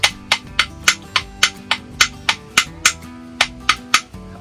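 An old red hardwood object tapped about fifteen times in an even rhythm, each sharp, resonant knock ringing with a clear pitch that shifts from tap to tap, close and alone.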